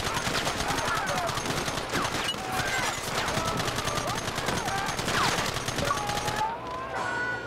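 Rapid bursts of gunfire in the Red Dead Redemption western game, dense repeated shots with a brief lull near the end.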